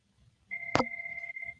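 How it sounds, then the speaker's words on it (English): A phone rings in a quiet curling arena during a match, a steady electronic trill lasting about a second with a sharp click at its start, heard alone and fairly close. "My phone's ringing in this room"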